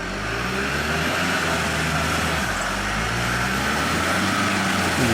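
A 4WD crawls forward on a muddy winter creek track, its engine revving in steady, loud surges with continuous drivetrain rumble, close by and without talk.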